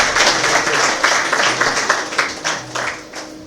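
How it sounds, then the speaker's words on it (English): Round of applause for a US Consul General at an aviation training launch event in Nigeria, a steady dense patter of many hands clapping at close range throughout, without talk. "Please, a round of applause for the Consul."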